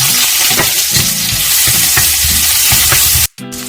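Garlic sizzling loudly in hot oil in a frying pan, a dense steady crackle with occasional stirring clinks, cut briefly near the end before resuming.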